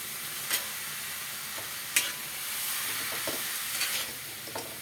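Papaya, potato and a spice mix with peanuts are stirred while frying in a pan, a steady sizzle with a few sharp scrapes and taps of the spatula, no voices.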